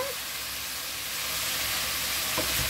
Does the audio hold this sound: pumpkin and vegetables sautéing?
yes